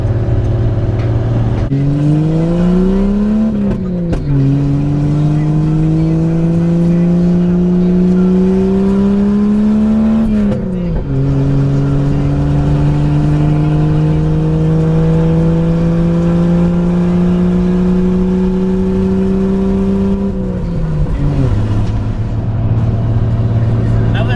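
A 4-liter Jeep engine droning loudly from inside the cab while driving, its pitch rising through each gear then dropping at the shifts, with steady road noise underneath.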